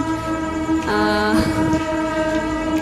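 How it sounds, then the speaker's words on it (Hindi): A train horn blares, loud and sustained, its tone shifting midway, over the rumble of a train. "सुना ना हॉर्न"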